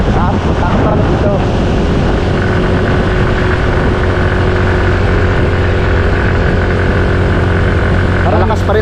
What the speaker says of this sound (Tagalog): Parang lakas pa rin ang motor mo, pre.